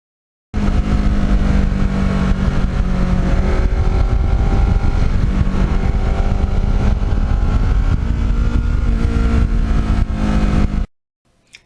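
Steady, loud engine drone from a Ninja motorcycle being ridden along roads past lakes, holding a continuous note with slight pitch shifts and wind rush throughout, then cutting off abruptly near the end.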